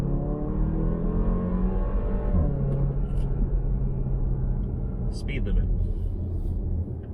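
A 2020 Porsche Macan SUV with a four-cylinder engine hums steadily at cruising speed, with a low, even rumble under continuous talk inside the cabin.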